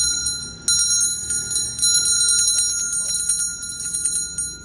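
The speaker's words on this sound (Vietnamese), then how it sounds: "Đó, một cặp chuông lắc Tây Tạng." A pair of Tibetan hand bells ringing with bright, sustained metallic tones, struck repeatedly in quick irregular clusters, close and fairly loud.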